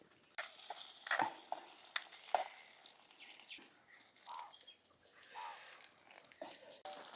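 Mustard seeds, cumin, split urad dal, crushed garlic and dried red chillies sizzle in a spoonful of hot oil as a tempering for Andhra-style vegetable sambar. Steady crackling and frying sounds come with a few sharp pops and the clink of a stirring spoon, heard close and quiet without talk.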